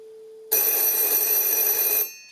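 A mechanical bell of an old S63 SOCOTEL telephone rings loudly in one continuous bright, metallic burst for about a second and a half, then cuts off with a brief ringing decay.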